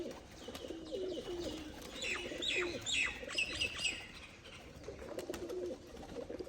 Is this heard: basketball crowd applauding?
no